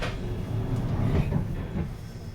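A London Underground Piccadilly line train pulls into the Cockfosters terminus, a short close rumble of wheels and carriage rattle with brief clanks and squeals as it slows, heard from on board without talk.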